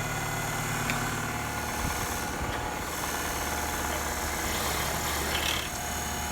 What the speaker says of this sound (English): use the wire brush side to grind off some of the carbon buildup on this exhaust valve